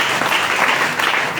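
A church congregation claps together during a worship service, a dense, steady wash of applause that fills the short moment without letup.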